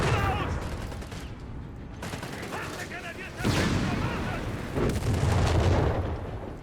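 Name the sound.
machine gun fire in video game Company of Heroes 3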